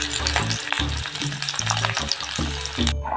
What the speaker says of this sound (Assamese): এয়া তেল পকি আছে।